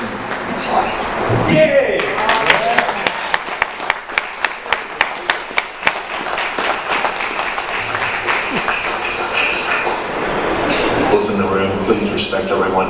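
Audience at an Oregon State Capitol legislative hearing on SB 978 breaks into applause, a dense wash of clapping with a run of distinct sharp claps in the middle, sustained for several seconds before fading.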